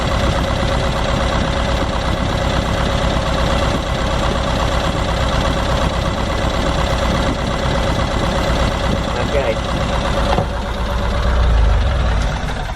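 Vintage van engine idling while running down a cylinder, a loud steady rumble with a slightly uneven, knocking beat that continues throughout with no talk.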